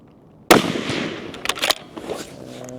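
A rifle fired at a target on a shooting range: one sharp, loud report followed by a decaying echo and a short crackle, with no one speaking over it.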